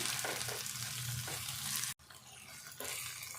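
Ginger garlic paste frying with onions in a pan for an onion egg curry, a steady broadband sizzle that drops out abruptly for a moment near the middle and then resumes, close and fairly loud with no talk.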